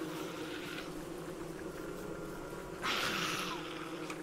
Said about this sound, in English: So if I leave the bees here, the spiders should end up fighting them.